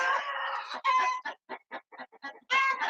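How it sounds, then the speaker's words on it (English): Backyard chickens cluck and squawk in short, loud, choppy bursts close by, with a few longer calls at the start and end and no talking. "Gus, go get the chickens."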